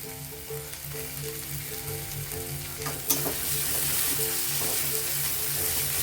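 Tomatoes fry and sizzle steadily in a pan for aloo bhindi, stirred as they soften, with a soft scrape partway through and a continuous close hiss throughout.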